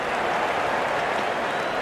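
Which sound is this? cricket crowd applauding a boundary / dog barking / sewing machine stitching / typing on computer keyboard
cricket crowd applauding a boundary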